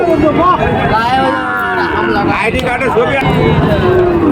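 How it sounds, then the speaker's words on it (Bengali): Cattle low and moo at a busy cow market selling Sahiwal cows, loud and close, with people talking and crowd babble around them. "দেখেন আর একটা গরু দেখায় কত বড়"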